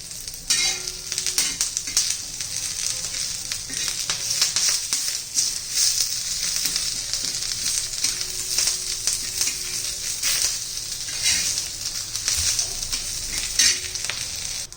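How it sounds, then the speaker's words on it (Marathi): Curry leaves dry-roasting in a pan over a medium gas flame give a continuous crackling sizzle, with frequent scraping stirs and sharp little pops throughout, close and without voices. "हे बघा कढीपत्ता आपला भाजून झालेला आहे खरपूस असा कलर न बदलता आपण मध्यम गॅसवर भाजून घेतलंय"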